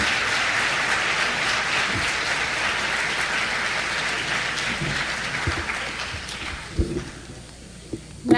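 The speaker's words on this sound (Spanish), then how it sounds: "caluroso y verdadero aplauso" An audience at an international biennial keynote lecture in Mexico applauds warmly, a dense sustained wave of clapping that thins and fades out near the end, leaving a few scattered sounds.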